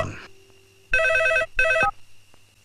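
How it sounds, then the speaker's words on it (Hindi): A telephone in a Hindi comedy film scene gives two loud electronic rings, one long and one short, after a brief voice at the start and then fades to quiet. "क्या दूसरी लाइन पर आपका फोन है? फोन, फिर से फोन।"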